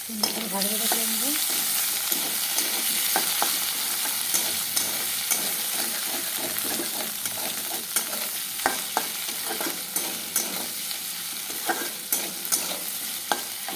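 Spiced potatoes and paneer crackle in oil with a constant dense sizzle, dotted with frequent small pops and taps of stirring against the pan.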